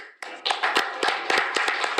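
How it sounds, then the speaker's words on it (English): A round of applause at a city council meeting: a small group clapping, individual hand claps distinct and fairly close, beginning abruptly and continuing steadily for about two seconds. "Round of applause."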